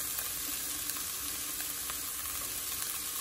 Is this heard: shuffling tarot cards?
no